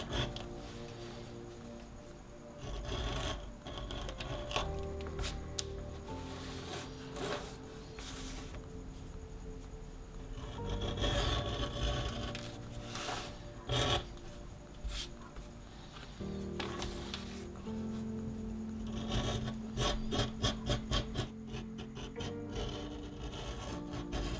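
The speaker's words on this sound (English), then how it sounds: "using the edge beveler to be one of the more satisfying things about working with leather" Repeated scraping and rasping strokes of an edge beveler shaving a leather edge, steady and close, with short bursts of cutting continuing throughout.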